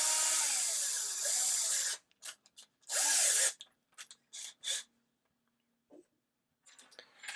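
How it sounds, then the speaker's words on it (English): A power drill drives a Crosize universal socket adapter in whirring bursts that spin up and wind down, followed by short clicking and rubbing handling sounds. "I'll connect it up to my drill."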